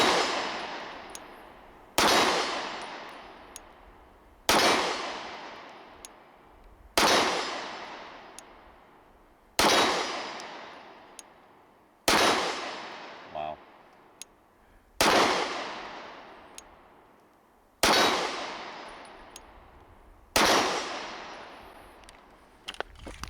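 Nine loud, sharp 9mm pistol shots from a Springfield Armory Ronin Commander 1911, fired one-handed, spaced about two and a half seconds apart, each with a ringing outdoor decay.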